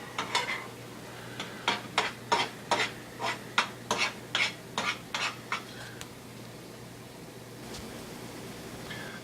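Eggs stirred in a frying pan: a steady run of scraping utensil strokes with a soft sizzle underneath, slowing and thinning out toward the end.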